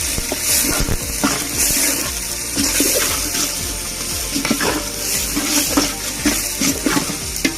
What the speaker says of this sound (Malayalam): സവോള ഇടാം സവോള നന്നായിട്ട് നമുക്ക് വഴക്കിയെടുക്കാം